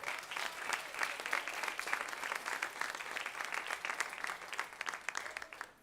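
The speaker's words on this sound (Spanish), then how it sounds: "Dale un fuerte aplauso al Señor en esta mañana." A church congregation claps together at a Spanish-language morning service, a steady, full wash of applause sustained throughout.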